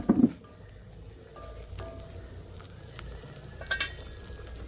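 Chicken and okra curry fries on a low gas flame in a pan, giving a soft, crackling sizzle with a couple of sharp clinks near the start and scattered pops, fairly quiet and close.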